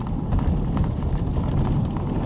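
Horse hooves clip-clop steadily on the ground in rural Yakutia, a dense rhythmic patter of steps heard close amid outdoor noise, with no talk.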